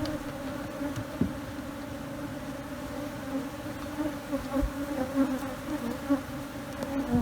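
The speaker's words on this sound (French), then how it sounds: "pour pouvoir en fait attirer la reine et le reste des abeilles" Steady, dense buzzing of many honeybees swarming close by around a hive, a continuous droning hum with no voices.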